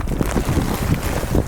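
Gusty outdoor wind buffeting the microphone during setup of a grow tunnel, a loud continuous low rumble with rushing noise and no speech.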